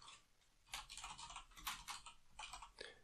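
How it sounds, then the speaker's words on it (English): Typing on a computer keyboard while configuring a Windows Server lab: a quiet, close run of irregular key clicks in short bursts, with no talk. "Now here in this box, we'll type in domain admin."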